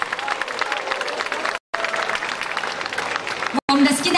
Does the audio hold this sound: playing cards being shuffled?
no